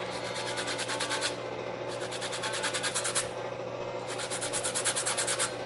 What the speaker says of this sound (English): Now I'm gonna grate my lemon, which I have previously already washed.